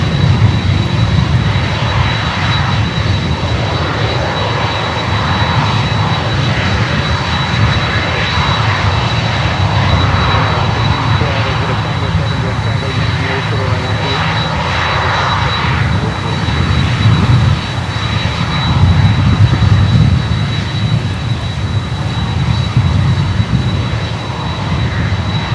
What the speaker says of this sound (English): Cathay Cargo 748 coming over.